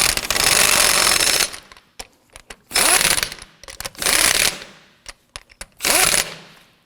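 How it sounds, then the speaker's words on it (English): Impact wrench snugging down the front wheel lug nuts on a 2008-2011 Ford Focus, heard as four loud rattling bursts of about a second each, separated by brief clicks and small handling knocks, with no talking. "When snugging these down, it's ideal to do them in a crisscross pattern."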